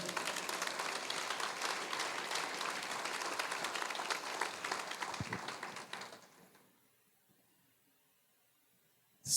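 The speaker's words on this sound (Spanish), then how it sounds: "Aplauda al Señor." Congregation in a church service applauds steadily with dense, sustained clapping for about six seconds, then the applause fades out into near silence.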